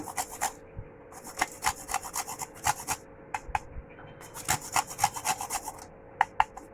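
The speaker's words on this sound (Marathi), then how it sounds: "मी हे बघा जायफळ थोडस नावाला असं किसून टाकते आहे" Nutmeg grated by hand over a bowl of Alphonso mango pulp, a close, dry rasping scrape repeated in quick rhythmic strokes with short pauses, no voices.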